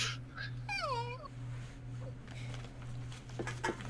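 A person imitates a dog whining, voicing a series of high, wavering whimpers and yips up close, followed by brief murmured talk from others around a tabletop game.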